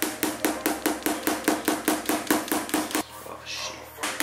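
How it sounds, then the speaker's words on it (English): A meat cleaver used as a hammer drives nails into furniture backing, giving about a dozen sharp, evenly spaced close knocks over three seconds before stopping. "when they tell you to nail all the backing in, what do you get? The meat cleaver."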